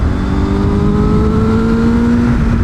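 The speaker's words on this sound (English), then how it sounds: "Try to show you guys this exhaust situation here." A 2021 Honda Fireblade CBR1000RR-R SP exhaust revs up to just under 6,000 rpm, its pitch climbing steadily in a loud, close, continuous roar with no talking.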